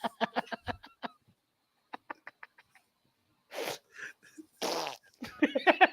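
A voice imitates a wet, nasty fart with a burst of rapid sputtering blurts, then a pause, a few more sputters, and longer breathy blowing noises, all loud and close.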